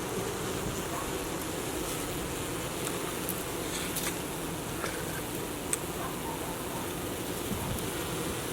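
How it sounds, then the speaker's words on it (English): Honey bees at the hive entrance in the afternoon heat, bearding outside, produce a continuous, faint, even buzzing hum with occasional small ticks and no voices. "You can just hear them buzzing."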